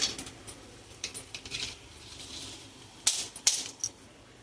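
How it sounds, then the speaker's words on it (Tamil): Cinnamon and cloves splutter in hot oil in a pan, giving scattered sharp pops and crackles at an irregular pace. The sound is fairly quiet, with a brief cluster of louder snaps near the end. "பட்டை கிராம்பு பொரிஞ்சோடனே"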